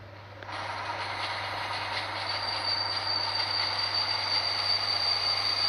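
A train runs in a video game with its brakes failing to respond, giving a loud, continuous rolling rumble with a bright metallic wheel squeal that holds steady and builds slightly.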